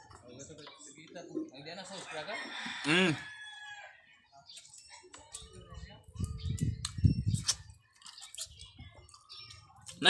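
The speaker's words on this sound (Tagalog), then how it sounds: "Mga manok." A rooster crows once loudly near the start, followed by hens clucking and low scratching sounds, with faint voices in the background.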